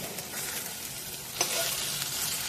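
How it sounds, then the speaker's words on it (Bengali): Pieces of fried egg sizzle in a pan, a dense continuous crackle held at an even level, with one brief sharper pop midway and no talking. "পিস করে ভালো করে আমি ভেজে নিচ্ছি।"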